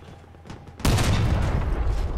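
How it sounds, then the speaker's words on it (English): In the Crossout vehicle combat game, artillery fire blasts overhead. A sudden loud crash cuts through quieter background noise and opens into a dense, crackling barrage of booms that keeps going to the end. "Makes me a little nervous to have artillery blasting over my head."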